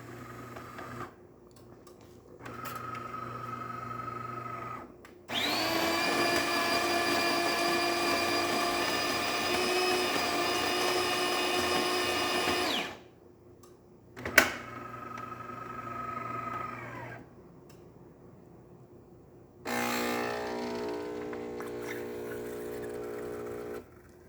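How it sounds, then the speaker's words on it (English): A DeLonghi espresso machine, said to have a water pressure problem, runs its pump with a steady, loud harmonic buzz while brewing a standard coffee from a very fine grind. Shorter hums come before and after, with a click between them. "now that the machine is back to temperature, we're gonna do one standard coffee"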